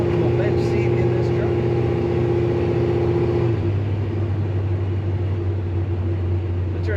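A 1968 Chevrolet C10 pickup's engine idles steadily as it warms up, a constant low rumble holding close and loud throughout, with a slight drop in pitch partway through and a voice talking over it.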